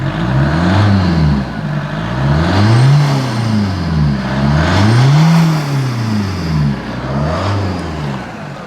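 A Chevy Cruze Diesel turbo diesel sedan engine revs up and down in repeated rising and falling sweeps, a deep diesel growl loud and close throughout.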